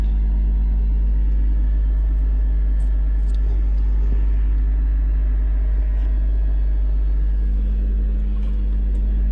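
A 1995 Honda Civic Si hatchback with a recently replaced speed sensor, its engine running in a steady low rumble as the car moves along, heard from inside with no voices.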